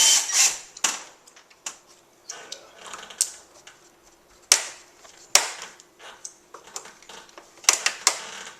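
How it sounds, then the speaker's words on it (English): A power screwdriver removes screws from a Fujitsu mini split heat pump: close, loud bursts of whirring and sharp metallic knocks and clatters arriving in irregular clusters. "So that's kind of what I'm doing right now, is taking out the screws."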